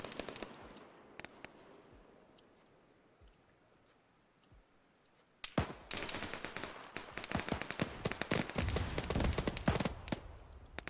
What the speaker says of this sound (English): So RPG fire is going back and forth.